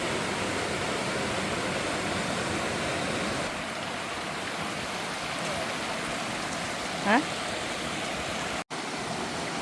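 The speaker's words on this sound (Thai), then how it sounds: "น้ำตกจะตกมาจากตรงโน้นค่ะ" Huai Mae Khamin waterfall in Kanchanaburi forest pours in a steady, dense rushing hiss of falling water, continuous and close, with a brief faint chirp briefly rising above it.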